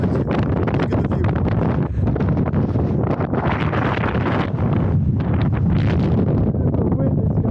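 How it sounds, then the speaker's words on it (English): Strong wind gusts on the summit of a cinder cone at Craters of the Moon, roaring loudly and continuously into the microphone with buffeting bursts throughout. "The wind is coming at least 50."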